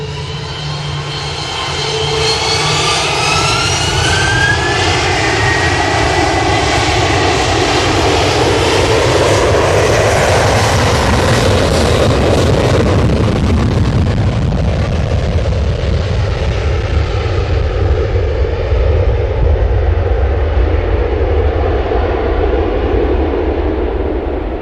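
An Aer Lingus jet airliner takes off at Manchester, its engine roar very loud and close, with a rising whine early on, then a deep sustained rumble that fills the whole stretch with no voices.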